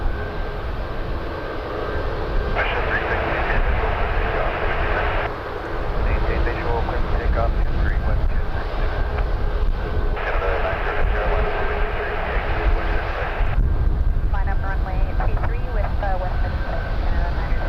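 A WestJet Boeing 737 Max 8 rolls for takeoff at Toronto Pearson, its engine roar loud and sustained at a distance, rising in surges, with someone talking over it.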